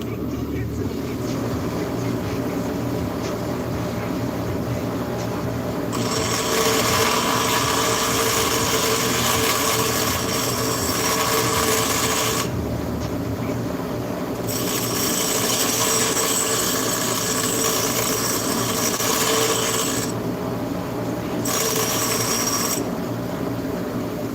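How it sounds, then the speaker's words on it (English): A bench grinder, rated by its user as a very poor one, runs during a forge build with a steady motor drone, broken by three loud stretches of harsh grinding with pauses between. "I've used a lot of bench grinders in my life, and this is the worst one I've ever used."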